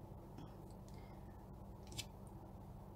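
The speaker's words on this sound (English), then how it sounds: "you may cut off this loose strand" Scissors snip a loose strand of crochet yarn at a magic-ring flat circle, a faint close snip or two over quiet room hum.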